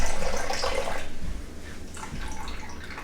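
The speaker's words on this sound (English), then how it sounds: "Just pour out all the water." Water poured out of a sprouting jar covered with cheesecloth, a brief close gurgling splash that tapers off and then trickles again.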